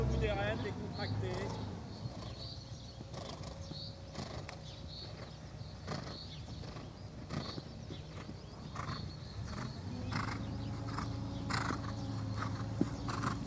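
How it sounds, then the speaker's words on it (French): A horse trotting during show-jumping schooling over a course of fences, with faint rhythmic hoofbeats under a rider's occasional talk and outdoor noise. "Ah, il trotte très franchement."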